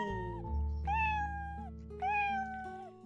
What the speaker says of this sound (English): Do you know what sound a cat makes?